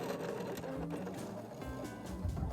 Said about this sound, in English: this cutter is loud, but when it's actually doing what it's supposed to be doing, it's music to my ears